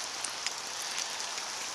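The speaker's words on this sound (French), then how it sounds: "Là, je suis sous un arbre, il pleut." Rain patters steadily and softly on leaves while someone stands under a tree beside a lake near Eastman, close to Magog, with a dense, even hiss of drops and occasional brighter taps.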